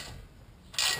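A tie rod nut on a Dodge Ram is loosened with a tool, making a brief mechanical ratcheting creak nearby that ends in a sharper, louder burst.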